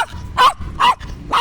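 A dog barks three times in a steady rhythm, loud and close, with whiny yelping tones between the barks and no talk over it.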